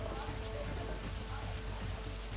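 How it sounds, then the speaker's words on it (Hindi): Heavy monsoon rain falling steadily in southern Gujarat, a dense, continuous hiss and patter of downpour that holds an even loudness throughout without pause. "फिलहाल मानसून दक्षिणी गुजरात में जमकर बरस रहा है।"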